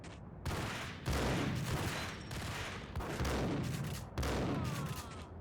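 Gunfire from the video game Max Payne: loud, dense bursts of shots that arrive in four or five heavy volleys, with brief gaps between them, and no voices over the top.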